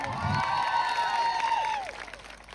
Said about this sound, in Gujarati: એમના માટે જોરદાર આપણે તાળીઓ પાડી લો.